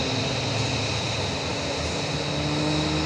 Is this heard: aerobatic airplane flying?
yes